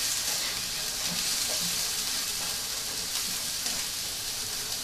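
Garlic and rosemary sizzling in a hot pan while steak pie filling cooks, a steady close frying hiss with faint crackles and light stirring throughout.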